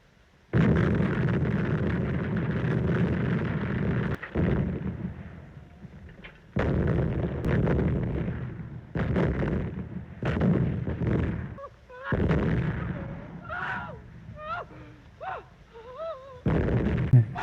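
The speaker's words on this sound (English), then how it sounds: "Bombardment." Artillery bombardment in a World War I battle scene: repeated heavy, booming explosions in loud bursts with brief gaps between them, rumbling and crackling debris filling the spaces.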